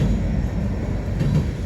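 Freight train rolls past a railroad crossing, a steady close low rumble of cars on the rails filling the short stretch with no voices.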